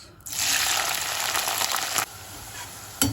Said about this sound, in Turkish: ara ara karıştırarak biberlerimizi güzelce kavuracağız.